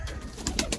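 Sialkoti pigeons of the Master Abdullah pearl-eyed strain coo in a few soft, close bursts over a low rumbling background, brief and unaccompanied by talk.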